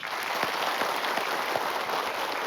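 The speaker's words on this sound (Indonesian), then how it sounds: "tepuk tangan." Audience applause at an Islamic religious gathering as a preacher is welcomed, a steady wash of clapping hands filling the room for a couple of seconds, with no voices over it.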